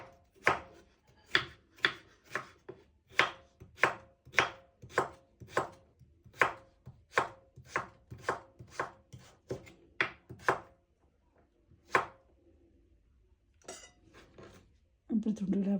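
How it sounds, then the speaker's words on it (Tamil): A knife chops pumpkin into small pieces on a board, sounding as a steady run of sharp, close knocks about twice a second, then a few spaced cuts and some clattering handling at the end. "இப்படி இந்த ஸ்லைஸாக நாங்கள் எல்லா பூசணிக்காய் துண்டையும் நாங்கள் வெட்டி எடுப்போம்"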